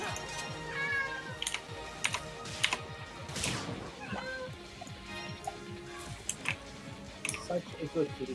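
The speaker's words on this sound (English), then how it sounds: "Why are cats meows always just so heart melting?" A cat meows a few times, with scattered keyboard-like tapping and faint voices of people playing PSO2 in the background.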